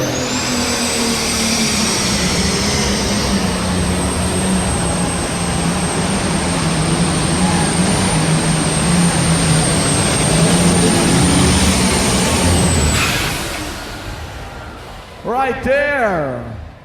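A super stock pulling tractor at the 1994 tractor pulling finals in Louisville, Kentucky gives a loud, sustained engine roar with a high whine for most of the stretch, then drops away, leaving brief noise near the end.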